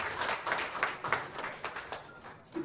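Audience applause at a film trailer launch event, a steady wash of clapping from a crowd that swells and fades in several bursts over a couple of seconds, moderately distant.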